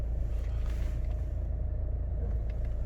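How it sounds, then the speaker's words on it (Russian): A low, steady engine rumble from inside a 2019 Hyundai Santa Fe creeping forward between cars, constant and close with no voices. "Вот мы едем вперед, продвигаемся между машинами."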